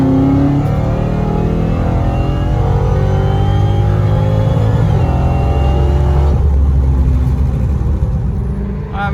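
A Hellcat's engine roars continuously through a full-throttle fourth gear pull, a loud, steady, deep drone that climbs slowly in pitch before easing off near the end.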